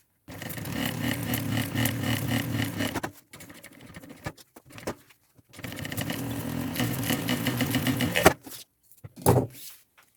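A sewing machine stitches a thermal backpack strap in two long steady whirring runs. A pause with small handling noises separates the runs, and a short final burst follows, all close and with no talk.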